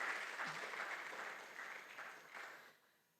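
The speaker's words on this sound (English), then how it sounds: "A round of applause for her in her absence." A workshop audience claps in a round of applause, a soft, fairly distant patter that holds steady and then fades out near the end.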